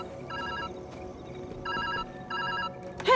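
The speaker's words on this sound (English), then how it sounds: "phone." A telephone rings in the Viewfinder video game with repeated bursts of an electronic bell tone, spaced by short gaps, moderately loud over a low ambient hum.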